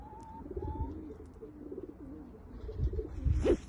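A young Dutch Jansen-line racing pigeon coos softly in low, rolling phrases, close by and steady, with a few faint higher chirps in the background.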